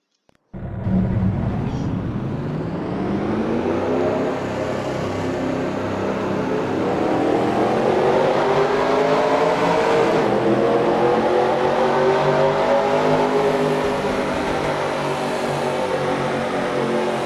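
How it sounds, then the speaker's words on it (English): Race car engines fire up together at a ZSS race and settle into a loud, sustained roar, climbing in pitch as they rev, with the throttle rising steadily over the idle and no talking. "Drivers, start your engines."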